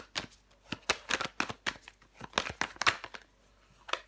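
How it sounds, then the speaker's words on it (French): Tarot cards handled on a table as one card is laid over another, making close, crisp slaps and papery flicks in an uneven series of short bursts, quiet and with no one talking. "Je vais le recouvrir ici, le cavalier de coupe."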